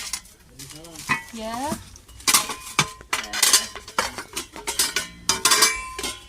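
Metal frying pans with lids clink and clatter as they are handled, a series of sharp, close metallic knocks and rattles mixed with a voice talking.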